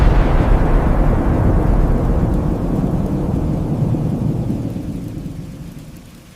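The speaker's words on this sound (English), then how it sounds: "Just a little thunder." Thunder in a storm heard from inside a cabin, one long deep rolling rumble with a hiss of rain, loud at first and slowly fading away over six seconds, with no voices.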